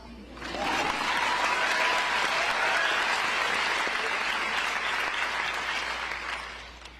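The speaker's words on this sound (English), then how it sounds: "give yourself an applause." Award ceremony audience at an Amnesty International event bursts into sustained applause, swelling in quickly, holding strong and even, then tapering off near the end.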